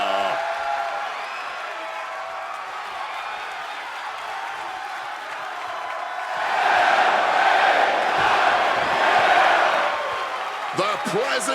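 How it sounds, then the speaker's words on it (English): Arena crowd in a WWE MyGM wrestling video game roars and cheers steadily for a wrestler's entrance, swelling louder partway through, with a commentator talking over it. "Oh, yeah, this crowd. They just love them some LA Knight"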